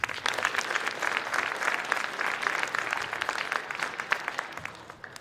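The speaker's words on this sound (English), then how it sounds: "Please give a round of applause for the Co-Brown seniors" Steady applause from a gym crowd honoring the senior players at a high school boys' basketball game, dense clapping that holds for several seconds and then tapers off near the end.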